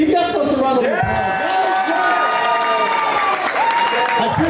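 Wedding guests clap in steady, dense applause that fills the room throughout, with a voice talking over it.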